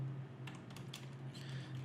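Computer keyboard typing at a desk while working in 3D effects software, a few light clustered key clicks over a steady low hum, fairly quiet.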